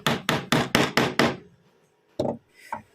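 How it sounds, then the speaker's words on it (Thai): A hammer drives a short nail held in the tip of pliers: six quick, sharp, evenly spaced blows up close, a brief pause, then two more spaced taps. "เมื่อได้แล้วเราก็เอาค้อนมาตอกใส่เลยนะครับ"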